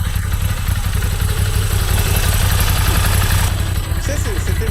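A newly bought touring motorcycle's engine runs steadily at close range, a loud continuous mechanical rumble with clatter throughout.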